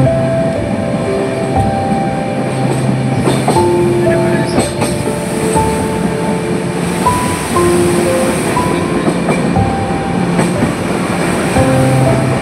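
A mountain train rolls along rails at night, a loud continuous rumble of wheels with intermittent squeals and clanks, heard close from on board.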